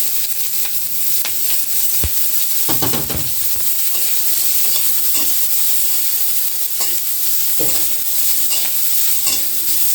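Cumin seeds and green chilies fry in hot oil in a pan, giving a continuous crackling sizzle broken by several scraping, clattering stirs, close up and with no talking.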